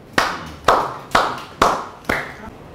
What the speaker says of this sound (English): Please, let's clap for him.